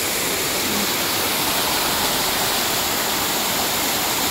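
A waterfall in Hong Kong Park roars with a steady, dense rush of falling water, loud and close, filling the whole stretch without a break.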